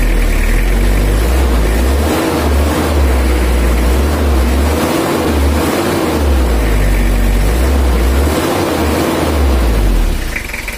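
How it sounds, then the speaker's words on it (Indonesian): Toyota Kijang diesel engine with a rough idle and weak power, a loud, steady low rumble with rhythmic knocking that swells and eases as it is revved, recorded close up. "kalau Toyota itu langsamnya ada kemelitiknya, kemreteknya mesin, tapi kalau digas kemreteknya hilang, berubah jadi suara halus"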